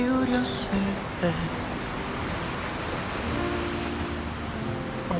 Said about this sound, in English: Oh, the sound of the waves